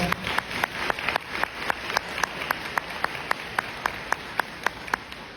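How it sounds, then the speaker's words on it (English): Sparse applause at a seniors workshop, individual claps landing at a steady, even rhythm rather than a dense roar, moderately loud and close, with a faint murmur of voices under it. "Let's give her a round of applause"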